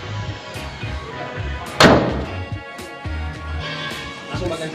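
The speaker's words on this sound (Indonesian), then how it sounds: "Kita langsung tutup aja, tetap tutupnya harus dibanting." The door of a 2005 Nissan Terrano Kings Road 2.4 manual SUV is slammed shut, one loud close thud standing out over background music with someone talking around it.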